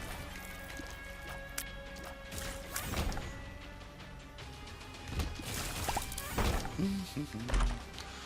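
Bombs exploding in a video game: several loud, crashing blasts scattered among other game noises, with talking over them.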